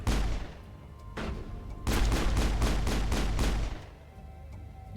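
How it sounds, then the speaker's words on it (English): Gunfire in the video game Mass Effect: a short burst, a pause, then a long run of rapid, evenly spaced loud shots lasting about two seconds before fading into quieter background ambience. "You're shooting at things."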